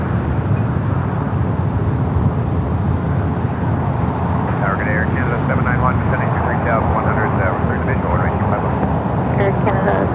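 An aircraft taxis along taxiway Lima at LAX, its engines giving a loud, steady broadband roar that runs throughout, with a faint voice and radio chatter coming in over the noise.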